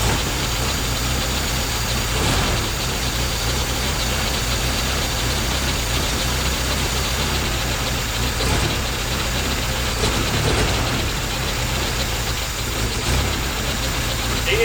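A car engine idles roughly and unevenly after a spark plug change, a steady close rumble with faint knocking running alone throughout.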